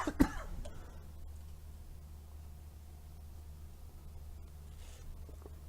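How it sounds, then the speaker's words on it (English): A single quick cough bursts out at the start, close and fairly loud, followed by quiet room hiss with no talking. "I was trying to hold that cough in so bad"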